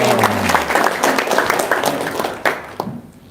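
Audience applause in a studio talk setting, brisk clapping from a small crowd mixed with a voice early on, loud and busy before thinning out and stopping near the end.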